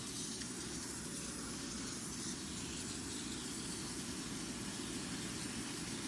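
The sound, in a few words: spraying insecticide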